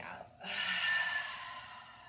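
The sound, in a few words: slow deep exhale during yoga breathing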